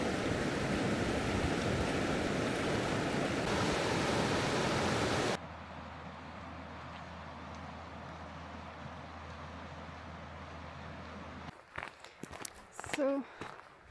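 River water rushes in a loud, broad wash for several seconds. Then it cuts to a quieter scene with a low hum, followed by brief shuffling and a voice.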